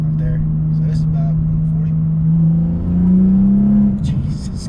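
A BMW M235i engine drones steadily from inside the cabin, rising in pitch as it accelerates before easing off near the end, with brief talk over it.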